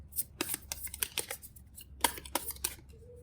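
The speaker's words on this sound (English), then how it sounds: "let me draw one card for you from the Oracle deck" Cards being drawn from an Oracle deck, with a string of crisp, close papery flicks and slides in quick irregular bursts, no talking.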